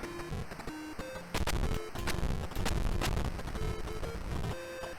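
Explosions go off in The Tail of Beta Lyrae, a retro Scramble-style side-scrolling shooter, as repeated sharp noisy bursts crackling over a loud, bright electronic game soundtrack.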